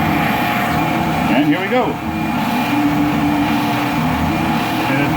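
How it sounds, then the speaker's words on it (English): A drum sander runs steadily as a board is fed through for smoothing, giving a loud, continuous mechanical hum with a brief brighter scraping moment; someone speaks briefly over it. "Drum sander on."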